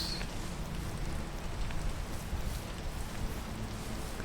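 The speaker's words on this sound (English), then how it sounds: "I really hope the rain goes away by the time I get over here, though." Steady rain from the video game PEAK, a dense, even patter that fills the scene without pause, moderately quiet and alone with no voices.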